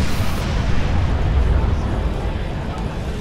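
A loud, sustained rumbling blast in the video game Dead Rising 3 fills the clip, a deep booming explosion with dense low-end roar throughout.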